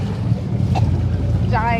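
A dive boat's engine rumbles steadily and close at a dive site off Koh Tao, joined by wind buffeting the microphone and a brief voice.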